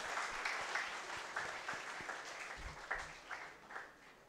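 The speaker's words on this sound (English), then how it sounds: "Why don't we clap for all those brave people who are raising their hand?" An audience at a climate change talk breaks into applause, a sustained wash of clapping from many hands with a few louder bursts, with no talking over it.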